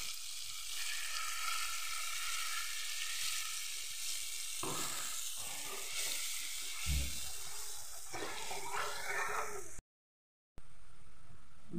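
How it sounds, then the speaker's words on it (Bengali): Water poured into frying spice paste for a fish curry, setting off a loud hiss and bubbling sizzle that stays close and continuous, then swells with sloshing before a brief drop to silence. "এবার আমি জল দিয়ে দেবো"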